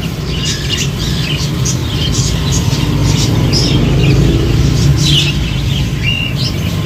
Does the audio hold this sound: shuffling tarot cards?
no